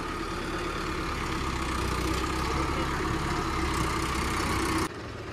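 Tractor engine idling in a continuous low rumble with a steady, even drone that cuts off abruptly near the end.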